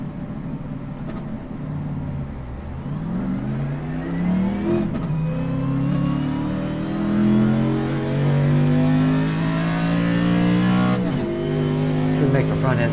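Race car engine in a racing video game revving up and down through gear changes, a loud continuous drone of rising and falling pitch with a brief dip near the end, someone talking over it.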